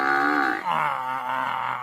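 A buffalo gives a long, loud, close moo that dips midway and then carries on as a sustained groaning call.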